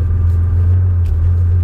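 The engine of a Porsche 911 restomod, the 'Oshe', while reversing: a deep, loud, steady rumble close by, a short unbroken stretch with no talking.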